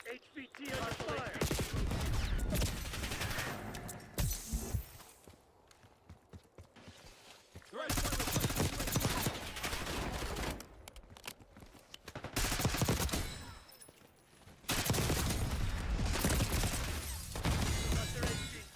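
Rapid gunfire bursts in Black Ops 6 during a high-value-target mode, loud and dense, coming in several clusters separated by quieter stretches that carry footsteps and radio-style voice callouts.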